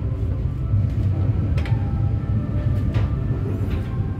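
From inside the KA Menoreh passenger train, a constant low rumble with faint clicks and rattles is heard as it enters track 1 at Pemalang station.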